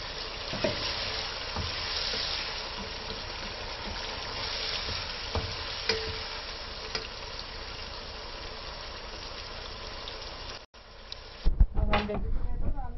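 Chopped carrots sizzling in a hot pan of oil, a dense steady frying hiss with light stirring knocks, followed by a short pause and louder clattering as more is added.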